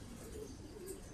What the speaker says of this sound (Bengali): এগুলো হচ্ছে খাকি কবুতর